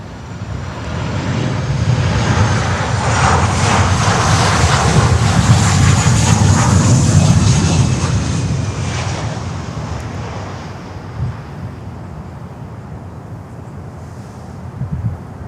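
An American Airlines Boeing 737 passes with a broad rushing jet roar that swells, holds, then gradually fades into distance over about fifteen seconds, wind-like and unaccompanied by talk.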